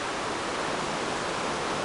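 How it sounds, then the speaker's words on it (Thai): Water flowing through the middle of Tham Luang cave, a steady broadband rush that holds level throughout, moderately loud with no voices. "มีน้ำไหลผ่านตรงกลางนะคะ ภายในถ้ำหลวงนะคะ"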